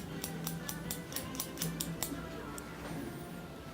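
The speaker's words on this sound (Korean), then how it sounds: "사이드도 반대편도 동일하게 디렉션에서 잘라줍니다." Scissors snip repeatedly through dry hair during a layered haircut, about ten crisp, close snips in a fairly steady rhythm over faint background hum.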